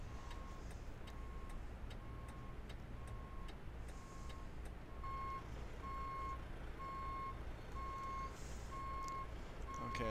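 A truck backing up to a trailer sounds a steady, evenly spaced reversing beep that repeats throughout, which grows louder and clearer partway through over a constant low engine rumble.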